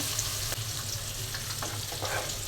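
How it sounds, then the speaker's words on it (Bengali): Fish frying in a pan for a curry, a steady broadband sizzle with a few soft crackles and pops, moderately loud and close, with no talk. "এক পাশে মাছ ভেজে নিচ্ছি আরেক পাশে মশলাটা কষিয়ে নিব তরকারি রান্নার জন্য"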